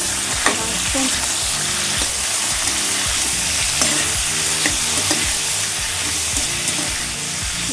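Tomato chicken fries in a pan and is stirred, giving a loud, continuous sizzle broken by repeated scraping strokes of the spoon, close up and without voices.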